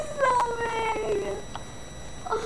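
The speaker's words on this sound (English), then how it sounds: "Yeah, there's the cat." A cat in the Minecraft video game gives a drawn-out, wavering meow, loud and close, followed by a shorter faint call.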